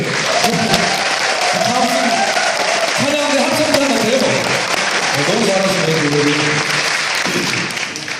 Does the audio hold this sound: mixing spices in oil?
no